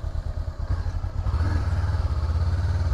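At a motorcycle school training area, a motorcycle's engine putters at low revs, then swells into a steadier, stronger pulsing drone as it rolls through a slow precision maneuver close by, without speech.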